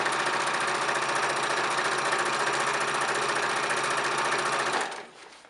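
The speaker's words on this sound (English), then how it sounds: "My needle is ready and I'm going to start sewing from the bottom." A sewing machine stitches the hem of a circle skirt, running in a loud, steady, fast mechanical whir for several seconds before stopping abruptly, leaving a faint quiet tail.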